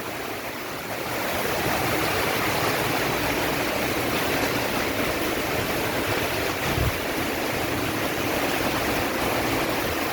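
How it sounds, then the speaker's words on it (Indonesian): Heavy rain driven by strong wind pours down steadily around an apartment block area, a dense, continuous roar that stays loud throughout with no voices. "Aduh, keras hujannya."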